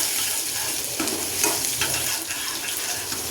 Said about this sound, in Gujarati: હવે તેમાં આપણે થોડું જીરું એડ કરીશું, થોડી હિંગ અને આપણે લસણ વાટેલું એડ કરીશું અને એને મિક્સ કરી દઈશું